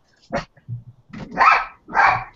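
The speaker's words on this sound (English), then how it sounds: "Oh, the dogs are barking." Dogs bark in several sharp, loud bursts close by, with a short low growl between the first barks and a pause before two stronger barks.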